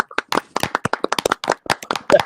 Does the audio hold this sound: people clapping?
yes